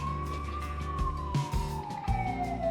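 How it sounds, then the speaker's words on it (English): An ambulance siren wails slowly through congested Budapest traffic, a steady falling tone over rumbling engine noise with occasional knocks. "ambulance stuck in the traffic."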